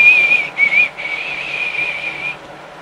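A single high, thin whistled tone, briefly broken twice then held as a long wavering note before stopping; close and alone.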